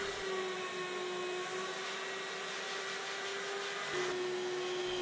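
A household vacuum cleaner, running during a dog desensitizing session, gives a steady droning whine that holds at an even level throughout, with no voices.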